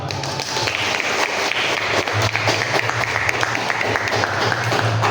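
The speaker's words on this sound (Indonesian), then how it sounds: "Tepuk tangan." A school class applauds after a lesson on biological classification, steady dense clapping from many pupils throughout, with a low hum beneath.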